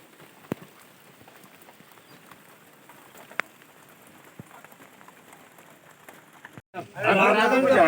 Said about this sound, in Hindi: बाहर बारिश लगी है तगड़ी वाली